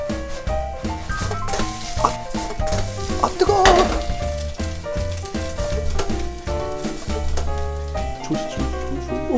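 Squid kimchi pancake batter with chili and water parsley sizzles and crackles steadily in a hot pan, with some stirring and clinking utensils under background music.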